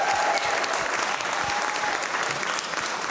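A large audience applauds, a dense steady roar of many hands clapping that carries on loudly and evenly without pause.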